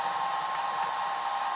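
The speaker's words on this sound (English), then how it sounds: "then we'll turn the fan on" Steady, even whir of an AC electric fan running inside a vortex simulator, a constant drone with no change in pitch, moderately quiet and alone.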